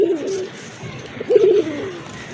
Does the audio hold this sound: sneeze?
no